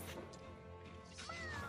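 A kitten meows once in the game Dofus 3, a brief rising mewl near the end over a steady game soundscape.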